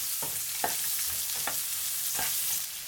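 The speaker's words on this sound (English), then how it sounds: "When they start to be golden, put the onion. Stir for 30 seconds." Onion stir-fried in hot oil with golden garlic and grated ginger for shrimp udon makes a steady, bright sizzle, with several rhythmic stirring scrapes cutting through it.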